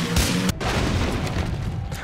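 Booming blast from a video game, a loud low-heavy explosion sound that fills the short moment, with a brief dropout midway and continued rumbling debris noise afterward.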